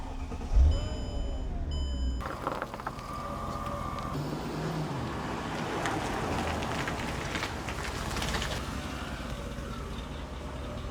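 A car engine while driving: a steady, moderately loud rumble with broadband road and tyre noise, preceded by a few short electronic beeps and a thump at the start.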